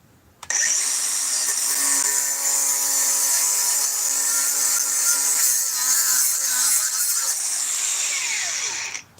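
A DeWalt power tool, a 7 to 9 inch bare tool model, starts abruptly and runs steadily at high speed with a bright whining tone for about nine seconds, then cuts off near the end.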